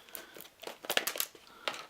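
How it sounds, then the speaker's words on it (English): Scissors cut into stiff plastic anti-theft packaging on a Star Wars Imperial Assault card pack, giving a few close, crisp snips and crinkles in quick irregular bursts with no talk. "So I'm going to use the scissors."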